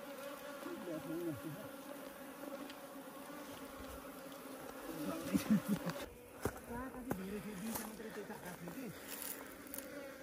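Bees buzzing as they are removed from inside a house wall, a dense swarm drone that rises and falls with wavering pitch over about ten seconds, with people talking beneath and occasional knocks.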